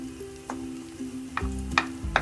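Grated raw potato pancake fries in a pan with a soft steady sizzle, broken by a few sharp scraping or stirring clicks toward the end.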